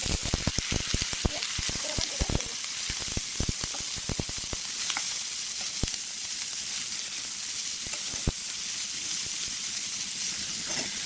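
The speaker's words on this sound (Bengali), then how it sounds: "ভালো করে ভেজে নেব।" Capsicum, onion and tomato frying together with browned garlic in a pan for homemade chili chicken, giving a steady close sizzle with a rapid scatter of stirring clicks and pops early on, then an even hiss.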